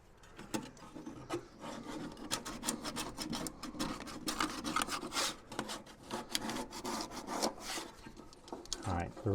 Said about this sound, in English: I'm going to go on ahead and take a putty knife here and try and clean this all out.